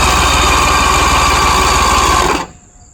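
A 1980 Mercury 70hp outboard engine runs steadily and loudly at idle with a close, buzzing pulse for about two and a half seconds, then stops abruptly.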